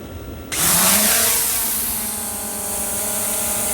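Ruko Veeniix V11 drone on auto takeoff, quiet at first, then its rotors suddenly spin up into a loud, close, high whine that settles into a steady hum.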